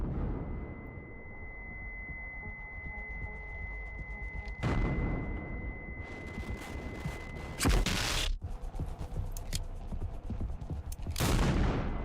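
Gunfire in the video game Mouthwashing comes as a few heavy, booming blasts spread apart, each a loud burst with a rumbling tail, over a constant low droning game ambience.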